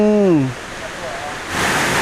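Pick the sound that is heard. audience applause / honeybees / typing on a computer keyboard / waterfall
waterfall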